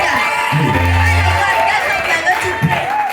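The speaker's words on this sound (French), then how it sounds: "Acclamons, acclamons, acclamons pour l'homme de Dieu en ce matin." Church congregation cheering and acclaiming during a lively service: a loud crowd roar with whoops, a sustained low hum, and a voice or two rising over the babble.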